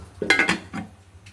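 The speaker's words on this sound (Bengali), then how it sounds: "শাকটা বসিয়ে দিয়েছি, এখন একটু ঢেকে দিব" A lid goes onto a pan of frying bottle gourd greens with a couple of quick metallic clanks close by, followed by a softer knock, all over a faint low hum.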